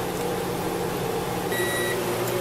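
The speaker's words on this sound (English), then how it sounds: "Alright, the timer says it's done." Microwave oven heating a packaged shrimp rice roll meal, a steady low hum with a short high electronic beep near the end, faint and close.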